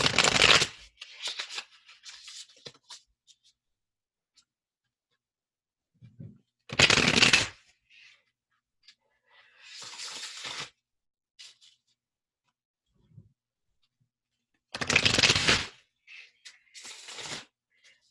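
Animal Spirit oracle cards shuffled in repeated bursts, crisp riffling flutters separated by quiet gaps, close and fairly loud with no talking.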